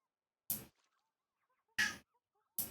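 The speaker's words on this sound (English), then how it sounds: "Why you yell, kitty?" A cat meows three times, loud and close, each a short sharp call separated by quiet pauses of about a second, with nothing else in between.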